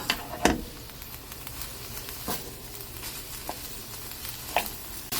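Blanched, overcooked, soft sweet potato stems stir-fried in a hot pan make a low, steady sizzle. Scattered clacks and scrapes of stirring come through, with no voices.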